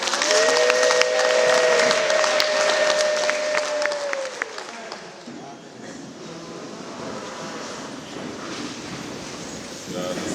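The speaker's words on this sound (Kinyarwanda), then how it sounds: "tugukomera amashyi" A church congregation claps in thanks after a prayer, a dense burst of applause that fades after about five seconds into crowd murmur and room noise, with a sustained tone ringing beneath the opening.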